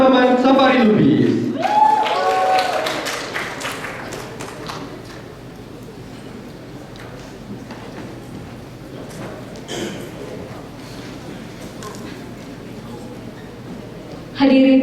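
An audience claps for a finalist at the 2025 Duta Bahasa pageant in Bangka Belitung, with sustained crowd applause following a brief announcement and continuing steadily for several seconds before a voice returns.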